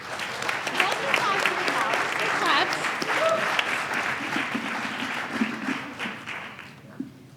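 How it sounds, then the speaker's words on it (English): An induction ceremony audience claps in sustained, dense applause that fills the room, loud and close, tapering slightly toward the end with a few voices mixed in. "One more round of applause"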